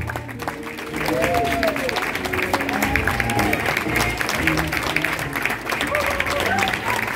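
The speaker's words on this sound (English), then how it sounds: "And one round of applause, please, for the flappers." Audience applause at a musical, a steady wash of clapping from a crowd that runs throughout, with a brief quieter stretch at the start and voices mixed in underneath.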